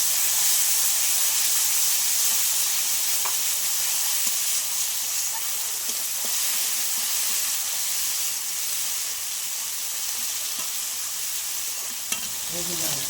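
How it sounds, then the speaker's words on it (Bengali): Poppy seed and green chili paste sizzling in hot oil with black cumin for a Bengali bhola fish curry, a steady loud hiss of frying throughout with a few faint stirring clicks. "কালো জিরেটা হয়ে গেলে আমি পোস্ত লঙ্কা বাটাটা দিয়ে দিলাম"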